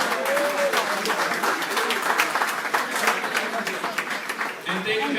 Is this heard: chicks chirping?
no